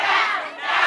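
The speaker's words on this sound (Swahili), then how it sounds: "shangwe na vigelegele kwa Joyce" A crowd at Joyce's birthday party cheers and ululates, a loud, dense wall of high trilling voices lasting the full second, dipping briefly in the middle before swelling again.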